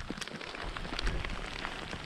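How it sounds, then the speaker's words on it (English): Rain falling outdoors in the Cairngorms mountains, a quiet, steady patter of drops on surfaces with faint low wind rumble, continuous and soft throughout. "Well, as you can hear, it started to rain."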